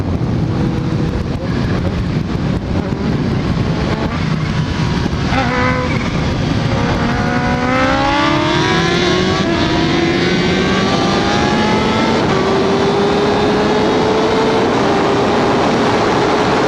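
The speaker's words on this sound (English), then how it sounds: "So it looks like Stunnerway wants to race me with his NOS." Sport motorcycles race on the street, among them a Ninja H2, a 2015 S1000RR, an R1M and ZX10Rs, one Gixxer 1000 running nitrous. Loud engines rev and climb through the gears under heavy wind rush, with rising whines throughout.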